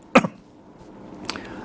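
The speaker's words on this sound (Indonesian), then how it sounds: "Batuk dulu lah." A single sharp cough close to the microphone, followed about a second later by a fainter throat-clearing sound.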